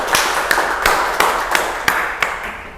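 A group at a teachers' training session claps in unison: about eight sharp, evenly spaced claps in a steady rhythm, each ringing briefly.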